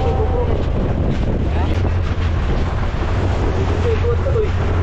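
Loud, blustery wind rushes across the microphone over rolling water and a low motor hum, steady and close throughout.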